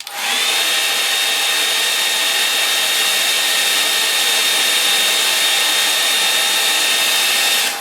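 Hair dryer blowing steadily on a wet watercolour painting, a loud, constant whooshing whine close by that runs unbroken for several seconds with no talk.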